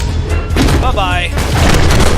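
Video game gunfire and explosions, heavy booming blasts and rapid shot bursts, loud and close, with a voice talking over the action.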